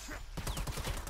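Gunfire in the video game Predator: Hunting Grounds comes as a quick run of rapid shots, fairly faint and muffled, packed into about a second.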